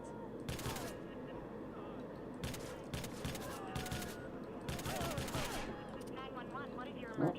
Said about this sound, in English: I'm going to use my shotgun and see how they react